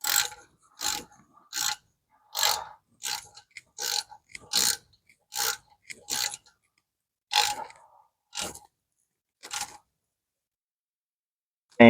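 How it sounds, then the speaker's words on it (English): A standard 3/8-inch ratchet tightening a pipe plug during a power transfer unit fluid change on a 2018 Ford Edge Sport AWD: about a dozen short, crisp clicking bursts in an even rhythm, close and clear with no talking, then stopping. "I'm just going to use, like I said earlier, a standard 3/8 ratchet and go ahead and get these tightened up."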